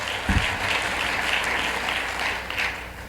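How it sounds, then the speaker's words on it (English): An audience applauds a speaker at a political campaign conference, steady full applause from a large crowd, even and sustained throughout. "Give another round of applause for Melissa. Harris Perry."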